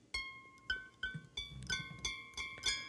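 Electric guitar strings are plucked behind the bridge, giving about eight short, bright, bell-like plunks in an uneven rhythm. Each note rings briefly and is heard close and clean, with no talking.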